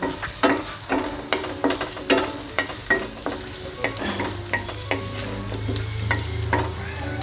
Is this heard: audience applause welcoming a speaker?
no